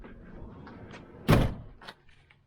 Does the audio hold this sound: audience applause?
no